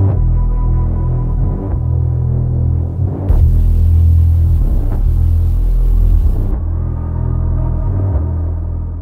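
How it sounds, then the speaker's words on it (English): A low, distorted sub-bass melody for the Doom video game, blended with white noise tuned to match it, throbs and rumbles loudly in slow swells, with a burst of bright hiss in the middle. "he made a sub melody, combined it with white noise that matched the frequency of the sub, and put it through some distortion"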